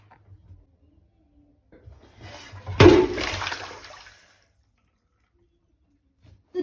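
A short burst of water is poured into a giant Lego fire station topped with a helicopter, its garage door left open. The splash swells suddenly, then drains away in a trickling wash amid quiet handling noises.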